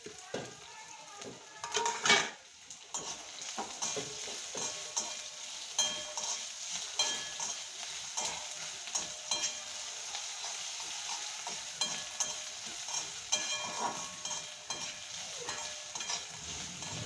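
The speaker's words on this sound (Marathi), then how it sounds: "मस्त परतून घ्यायचं लालसर." Chopped onion, green chili, cumin, turmeric and salt fry in a pan with peanuts, giving a steady soft sizzle and crackle punctuated by frequent spatula stirs and scrapes, while someone talks quietly over it.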